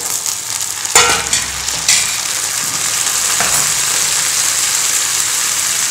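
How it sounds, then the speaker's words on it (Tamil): Cut tomatoes dropped into sautéed onions for thakkali thokku, a loud splash then a continuous close, hissing sizzle, with a couple of stirring scrapes and no voices. "வெங்காயம் வதங்கிடுச்சு தக்காளி நாலு கட் பண்ணி போடுறேன்"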